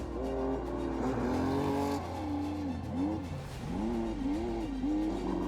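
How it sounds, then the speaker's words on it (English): A rough-running Ford Escort rally car competing in the 2023 Classic Safari Rally in Kenya drones loudly and continuously, its engine note rising and falling as it accelerates and eases off. "A bit of a rough sounding escort from Faraz Khan."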